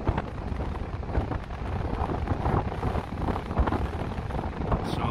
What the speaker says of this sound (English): Sorry for the wind, everybody.